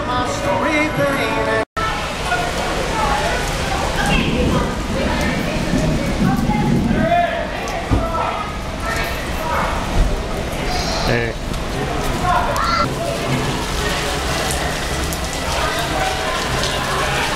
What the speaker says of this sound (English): just started raining here at Margaritaville in Niagara Falls